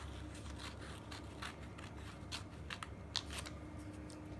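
Paper book pages being trimmed along their edge with an X-Acto knife while shaping a book pumpkin, giving a run of quiet, repeated scraping and snipping strokes close by with no talking.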